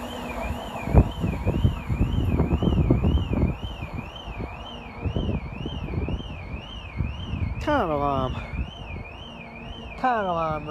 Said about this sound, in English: Car alarm rave